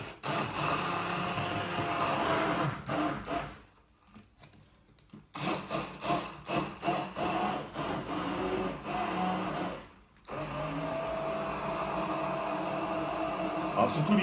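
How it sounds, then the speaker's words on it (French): An immersion blender whirs steadily through cereals, running continuously with two short stops before starting again, close and fairly loud. "mixeur plongeant."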